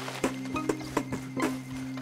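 A horse in a Red Dead Redemption 2 game scene clops along with about five distinct hoofbeats in an even rhythm over a low steady tonal hum, close and clear, with no voices.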